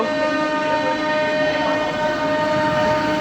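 An inaugural special train pulls out of Amghata station bound for Krishnanagar, giving a steady, loud rumble with sustained tonal hum and horn-like drones and no talk.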